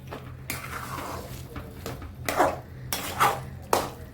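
A utensil stirs grated sweet potato through melting jaggery in a pan, giving irregular scraping knocks and clinks against the metal that grow louder toward the end, with no talking.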